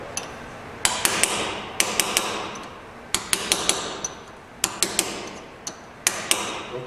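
A wheel bearing dust cap is tapped into place on a hub with a hammer, giving a string of sharp, close metallic knocks in irregular bursts of two to four, with short pauses between them.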